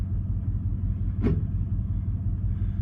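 A Chevrolet Tahoe, Silverado or Suburban 4WD transfer case shifting into 4 low gives one brief metallic clank over the steady low rumble of the idling vehicle.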